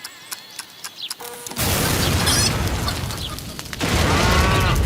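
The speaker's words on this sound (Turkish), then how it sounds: "Aa, yine bir şeyler patladı." A sudden cartoonish explosion bursts out, loud and booming, with crackling rumble and a second blast following a few seconds later.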